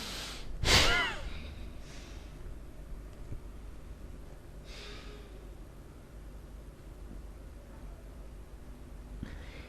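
Deep yogic breathing: one sharp, forceful nasal inhale near the start, followed by softer, faint breaths in a quiet room with a low hiss and no talking.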